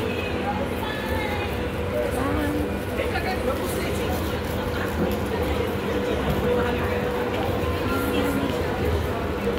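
Rumbling metro train noise with rail clatter under a busy crowd at Paya Lebar MRT station and scattered chatter, steady throughout.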